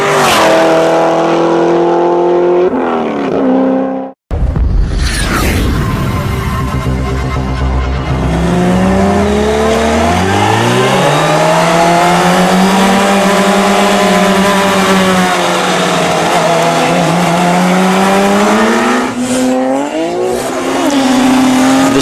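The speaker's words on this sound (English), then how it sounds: "The Supra allows the Lamborghini a little bit of a jump, knowing that it's got enough horsepower to chase it down" A Toyota Supra and a Lamborghini race car accelerate hard together, loud and close: roaring engines climb through gears with rising pitch sweeps, a brief cut near four seconds, then sustained high-revving drone and a further upshift.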